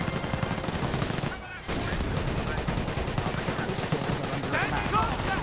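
Dense gunfire from a Company of Heroes 1 battle as a base comes under attack: continuous machine-gun bursts and rifle shots with a brief lull in the middle, loud and busy throughout.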